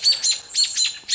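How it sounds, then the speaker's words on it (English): Robins near their nest call out in agitation, a quick run of five sharp, high chirps in steady rhythm, close and clear. "Robins. They're a little upset with me."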